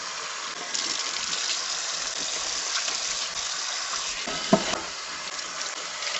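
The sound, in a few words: washing burnt pot scrubbed with lemon and sand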